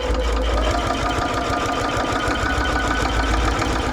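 A sewing machine back stitching along the seams of a rag quilt, running a steady, close, mechanical whirring hum with a rapid needle rhythm throughout, alone without talk.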